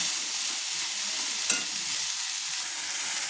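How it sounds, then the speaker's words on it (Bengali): A spice paste for prawn malai curry sizzles steadily in hot oil in a pan while it is stirred, a close, even frying hiss with one brief scrape of the spoon partway through. "মশলাটা যতক্ষণ লাল হয়ে ভাজা না হবে আর মশলা থেকে যতক্ষণ তেল না ছাড়বে ততক্ষণ আমি নাড়ব।"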